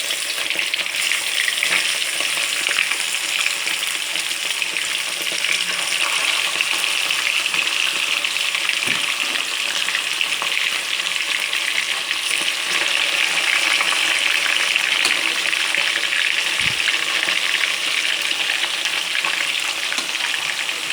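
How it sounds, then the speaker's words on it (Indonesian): Tongkol fish fries in hot oil for a Minang-style balado, giving a loud, continuous sizzle and crackle that holds steady, with occasional stirring clicks and no talking. "Minyaknya udah panas, kita goreng ikannya."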